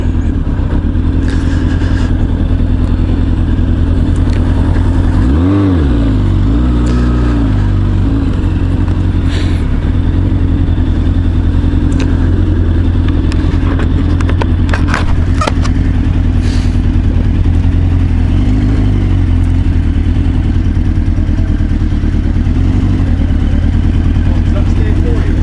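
A Honda CBR1000F sits running steadily at close range, a loud even engine drone, with a brief rev and gear-shift clunk a few seconds in, and people talking nearby.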